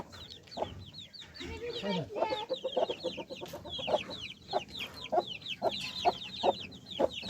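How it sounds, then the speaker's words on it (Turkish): Several chickens, including a black-eyed hen, cluck and chatter in quick, uneven bursts, close by and fairly quiet, with some faint background noise. "Burada bir siyah göz tavuk."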